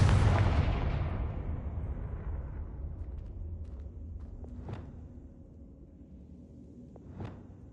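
Confringo blasting spell in Hogwarts Legacy: a loud broadband blast at the start decays into a rumbling tail, then two sharper distant cracks follow a few seconds apart.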